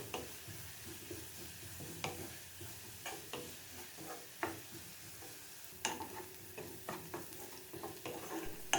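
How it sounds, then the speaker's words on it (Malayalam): Onions sautéing in a pan for paneer masala, a faint low sizzle broken by scattered scraping clicks of a stirring utensil, irregular and fairly quiet, with no voices. "ഇനി ഇത് നല്ലോണം ഒന്ന് ഇതുപോലെ വഴറ്റിയെടുക്കാം."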